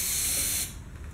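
A loud, hissing spray bursts for just over half a second from a Model A on its first run, then stops, leaving a faint low rumble behind.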